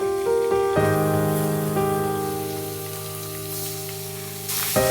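Pieces of sea bass fry in hot oil, a steady close sizzle that runs unbroken with occasional crackles and stirring sounds, with no talking over it.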